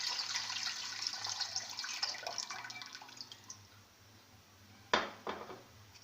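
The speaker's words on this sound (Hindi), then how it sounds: "एक देगची के अंदर आप पानी ऐड कर दें।" Water pouring into a cooking pot, a continuous splashing stream that thins out and tapers off, followed by a couple of sharp metallic clanks of the pot close by.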